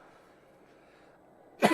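One sharp cough bursts out near the end, close and loud, after a stretch of faint background hum.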